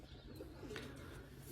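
Pigeon cooing, a kept racing pigeon that stayed out overnight, heard as a soft low coo over a steady background hum, with no talk.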